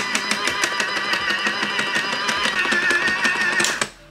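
An electric knitting machine runs through a few rows with a rapid, even mechanical clatter of regular clicks and whirring. It is close and continuous, then stops abruptly at the end, with no talking.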